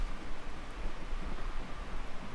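A steady roar of rain and wind with a low thunder rumble underneath, dense and continuous with no pauses, from a violent thunderstorm in the video game Miscreated.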